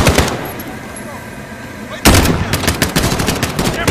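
Gunfire in Call of Duty Modern Warfare starts abruptly after a quieter stretch, with rapid, loud automatic bursts and sharp repeated shots dominating the rest of the moment.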